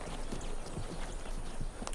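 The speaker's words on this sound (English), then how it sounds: "I see horses right here" Horses walk along with a steady clip-clop of hooves, faint and somewhat distant, under a wash of background noise.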